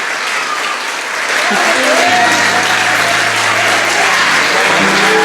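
A church congregation at a Sunday service breaks into loud, sustained applause that fills the space, with some voices and cheering mixed in throughout.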